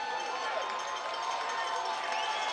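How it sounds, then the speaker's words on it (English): Baseball crowd at an FCBL championship game between Vermont and Nashua, New Hampshire, cheering and roaring in a sustained, dense wash that stays loud throughout without any speech over it. "The crowd goes nuts."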